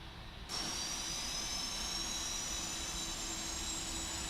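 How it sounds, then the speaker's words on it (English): PMDG Boeing 747 jet engines spooling up in the P3D flight simulator at a UPS freighter's cold-and-dark start, a quiet steady whine and broadband roar that kicks in abruptly and rises slowly in pitch, with no talking. "Starting engines 2 and 3"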